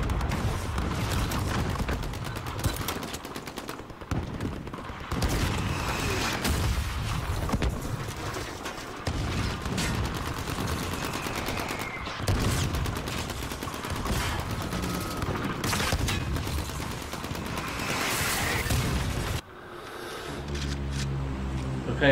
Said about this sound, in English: And the mortars are coming down around us.